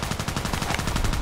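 Rapid bursts of shots from a TKPD sniper carbine in the Contract Wars video game, sharp repeated reports in quick succession, loud and close with no talking.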